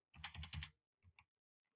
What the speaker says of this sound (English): I'm not having a lot of luck in typing this morning